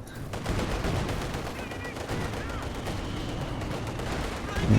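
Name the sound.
artillery barrage and machine gun fire in a video game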